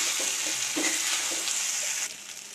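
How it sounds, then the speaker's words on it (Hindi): Rice flour fare dumplings fry in a pan with cumin, giving a bright, steady sizzle with a few soft stirring scrapes, close and alone before the sizzle drops slightly near the end. "ये फ्राई कर लेते हैं अच्छे से"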